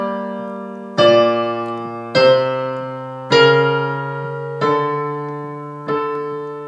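A secondary dominant chord progression sounded in two voices, bass and soprano, five sustained chords struck one after another at an even pace, each ringing and slowly decaying, with no talking.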